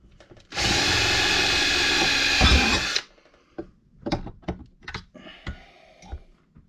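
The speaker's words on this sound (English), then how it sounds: "Always weird to drill a couple holes in a brand new case" A power drill bores holes into a brand new dry box case, one steady whining burst of about two and a half seconds, close and loud, followed by scattered clicks and handling knocks.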